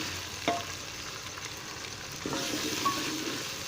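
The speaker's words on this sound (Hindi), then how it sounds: "अब इनको अच्छी तरह मैं भून लूँगा" Tomato gravy with salt, chili, black pepper, garam masala, cumin and turmeric for yellow moong dal fries in a pot, a continuous close sizzle broken by two sharp spoon knocks and a louder stirring surge near the end.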